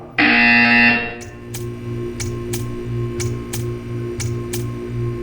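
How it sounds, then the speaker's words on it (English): A loud buzzer from the art-staring test chamber in the Portal 2 video game blares for about a second. Sharp repeated ticks and a steady low hum follow. "When you hear the buzzer, stare at the art."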